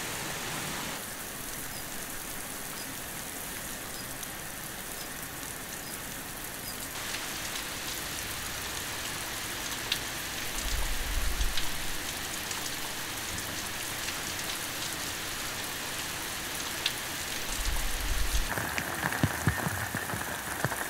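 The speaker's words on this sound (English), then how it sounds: "While the rain starts to recede" Steady rain falls through a forest, a soft even patter of drops on leaves and ground lasting throughout, with a few faint low thumps and no voices.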